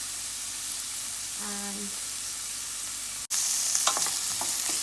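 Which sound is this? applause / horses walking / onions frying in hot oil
onions frying in hot oil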